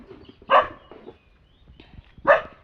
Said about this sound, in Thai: มันเห่าหรอ